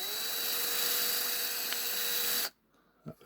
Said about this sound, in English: So a little bit more of the drill, just gently.